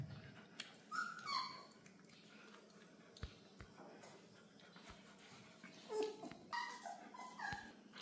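A litter of five puppies whimpers in a few thin, high whines and yips, close but faint, with soft rustling and quiet background noise.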